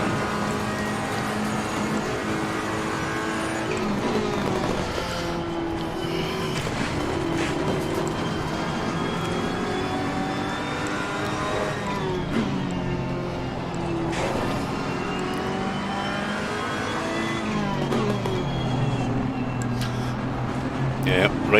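GT3 race cars lapping Zandvoort in a racing video game, with a steady droning engine whine and shifting pitch as cars bunch up and slow, continuous throughout with a voice talking over it.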